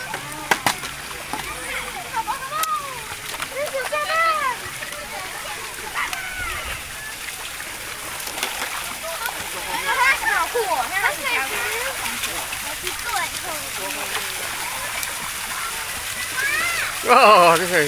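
Water splashing and spraying at a fountain in a water park, a continuous close wash of splatter under frequent chatter and children's voices throughout.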